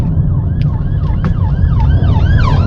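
An ambulance siren wails in traffic, its rising and falling tones repeating steadily over a constant road and engine rumble, fairly close and loud.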